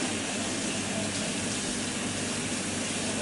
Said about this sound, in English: I'm going to wash my knife.